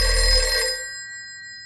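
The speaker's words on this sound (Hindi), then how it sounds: "बज गई घंटी।" A telephone bell rings once in a bright, metallic burst that rings out for under a second, then decays into a faint lingering tone; no voices.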